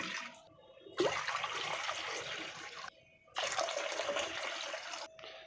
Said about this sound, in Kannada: ನೀರು ಹಾಕೋತಾ ಇದ್ದೀನಿ ಈಗ